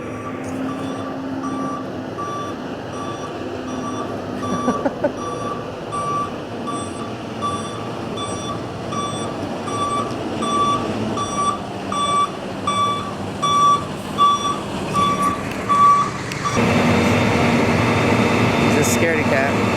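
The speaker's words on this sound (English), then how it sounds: "I'm stuck next to this super loud tow truck" A tow truck's reversing alarm beeps steadily in a regular pattern over a loud idling engine hum, with the rumble swelling near the end.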